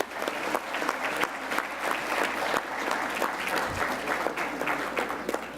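Sustained applause from a healthcare conference audience fills the room, a thick, even wash of many people clapping at once without pause.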